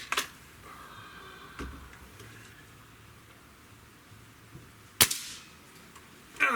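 A single sharp report from a Remington Thunderceptor rifle cracks out at mid-clip, loud and near, with a faint thump early on and another brief transient at the very end over a quiet outdoor background.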